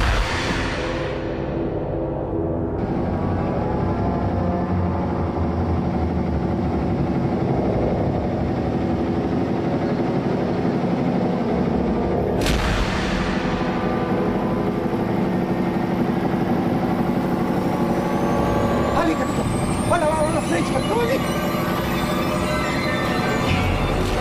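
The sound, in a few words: vehicle engine running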